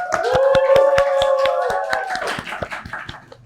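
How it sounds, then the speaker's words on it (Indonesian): Audience at a campus podcast event at UNS clapping: sharp, distinct handclaps in a loose rhythmic series, close and crisp, with a sustained voice-like tone and cheering behind the first two seconds. "Tepuk tangan dong!"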